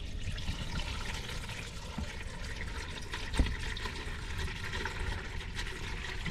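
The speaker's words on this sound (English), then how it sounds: "Then you can quickly pull away from the pouring oil." Motor oil pours steadily from the drain of a 2011-2016 BMW 5 Series F10 with the N63 engine, a continuous close trickling splash with a brief clunk partway through.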